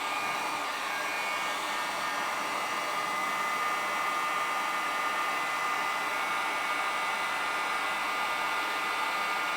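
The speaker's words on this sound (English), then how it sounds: "I take the heat gun and I like to melt them a little bit and kind of make them crinkly" A heat gun blows a steady, loud, continuous whoosh while melting plastic flower petals until they crinkle, with no break and no talking.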